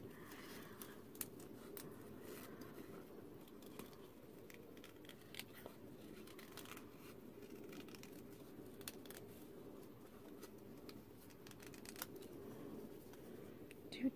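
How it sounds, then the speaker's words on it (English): Scissors snip through paper during a craft project made from leftover junk mail such as a window envelope, a quiet, steady run of small cuts and rustles close by, with no talking. "these scissors sure do cut better that way with a right-handed person"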